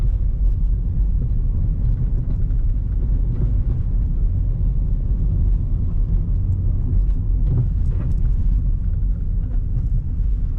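Steady low rumble of a 2006 Toyota Vios 1.5 G facelift with automatic transmission, driving slowly with a continuous engine and road drone throughout, close and fairly loud, with no talking.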